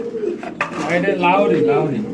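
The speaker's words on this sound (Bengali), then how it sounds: "লাহরি কবুতরের জোড়া" A pair of large Lahore pigeons coo softly in low, rolling notes while someone talks nearby.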